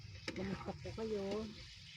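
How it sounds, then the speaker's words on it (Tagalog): Chicken sizzles and is stirred in a hot pan while being sautéed for chicken adobo, a steady frying hiss with a person talking over it. "Ginigisa ko po muna siya para hindi siya malansa."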